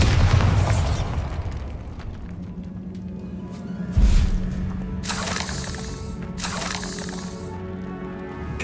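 Spell blasts from the Confringo fire charm in Hogwarts Legacy: a heavy boom opens, another sharp burst lands midway, and bright crackling bursts follow near the end against a rumbling game backdrop.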